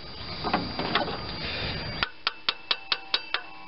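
A series of sharp, evenly spaced taps with a hammer handle, fitting a new part on a 1993 Chevrolet S10 4.3 V6 truck, rings out after some rustling handling, about seven knocks in a quick steady rhythm, close by.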